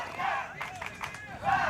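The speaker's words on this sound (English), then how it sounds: "The crowd is going nuts here." Swedish fans cheering at a Poland versus Sweden sports match, a loud roaring crowd with chanting swells rising and falling, with a commentator talking over it.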